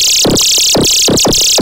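Loud, harsh distorted synth tones pulse in a repeating pattern, gritty buzzing bursts layered over a sustained high fizz.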